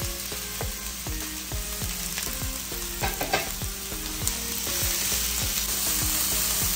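Sliced onions fry in hot ghee for a biryani, a steady close sizzle with rhythmic scraping strokes of a spoon stirring the pan, no voices.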